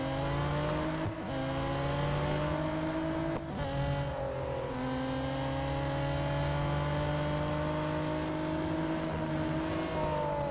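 Race car in the Real Racing 3 video game: sustained engine drone with rising gear-shift tones and brief dips between shifts, steady and fairly loud, with no talk over it.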